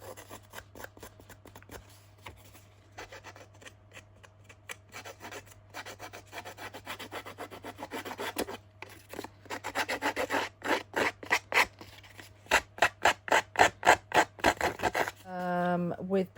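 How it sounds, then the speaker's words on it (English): Scissors scraping along a paper edge to distress it for a Christmas junk journal folio cover: soft rasping strokes at first, then a fast run of loud, rhythmic scrapes, with a steady low hum beneath. "Scissors, so I'm just going to distress"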